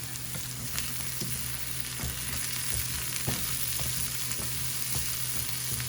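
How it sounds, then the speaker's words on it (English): Scallions and diced potatoes fry for a cheese omelette, giving a dense, continuous close sizzle with small intermittent pops and stirring scrapes, steady throughout and free of speech. "Gonna add a little bit of scallion because I want the scallion onion flavor to cook with it."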